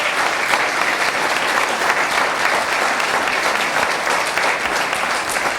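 Sustained applause from a lecture audience in Kansas City, steady and dense clapping filling the whole stretch at even loudness with no speech over it.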